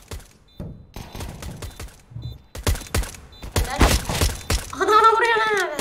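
Scattered Counter-Strike gunshots, sharp single cracks and short bursts from an M4A4 and other weapons, mixed with game clatter and a loud tonal effect at the end, with voices talking over parts.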